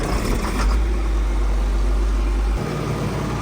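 A John Deere 4850 tractor engine runs steadily with a deep, even low drone close by, shifting slightly in tone near the end as the throttle settles; no one speaks.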